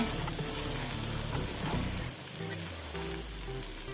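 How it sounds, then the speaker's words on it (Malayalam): Dried shark fish fries and is stirred in a pan, a steady close sizzle running throughout with scraping stir noises over it and no talk. "ഫ്രൈ ചെയ്ത് വെച്ചാൽ മീനിട്ട് കൊടുക്കാം എന്നിട്ട് നല്ലപോലെ ഒന്ന് മിക്സ് ചെയ്യുക"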